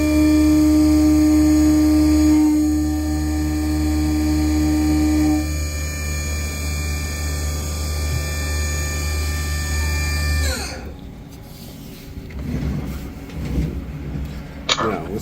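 A Haas CNC mill takes a light skim pass off the side of a part, a steady loud machining whine with strong harmonic tones that cuts off abruptly partway through, leaving quieter shop rumble and clatter.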